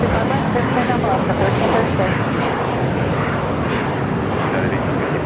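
At LAX, an airliner waiting just before takeoff gives off a loud, broad engine roar that holds steady throughout, with radio chatter running underneath.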